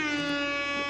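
A single sustained tonal blast from an air horn, steady and fairly loud, lasting about a second with no other sounds around it.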